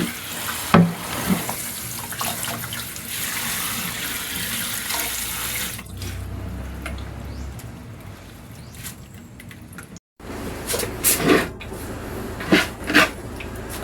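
Moringa leaves are washed under a running kitchen tap, water splashing steadily into the sink with handling clatter and a brief pause before the flow resumes, close and fairly loud.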